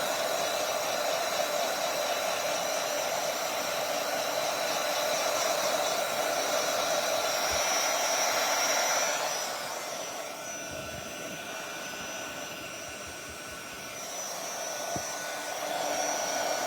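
A hair dryer blows steadily on artwork at a table, a loud continuous whir that dips slightly partway through and keeps running to the end.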